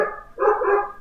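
A dog barks in the background of a home setting, a single sustained burst of barking, moderately loud and alone without talk over it.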